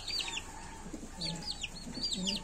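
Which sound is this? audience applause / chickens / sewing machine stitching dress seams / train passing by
chickens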